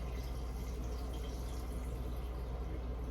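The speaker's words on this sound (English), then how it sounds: "I want to make sure you put room temperature water in there" Room-temperature water pours steadily into a flower vase holding cut flowers, a continuous close trickle and splash with no voices.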